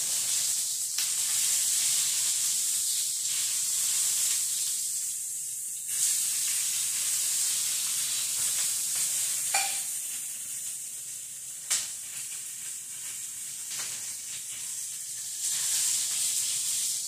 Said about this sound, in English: it's smoking and everything, so we'll go ahead and start searing this up